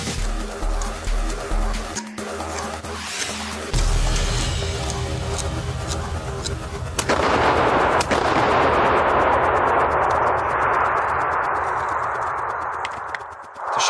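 Shotgun firing shot cartridges: a rapid series of sharp, booming blasts at the start, then a single loud report followed by a long, noisy decaying roar, close and powerful, with no talking.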